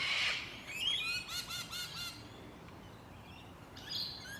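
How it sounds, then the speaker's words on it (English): A Sulphur-crested cockatoo calls in a suburban park in Adelaide, South Australia, with a burst of harsh raspy screeching at the start, then a run of repeated chirping notes and another short harsh call near the end, mid-distance and fairly clear. "the Sulphur Crested Cockatoo, one of Australia's larger parrot species"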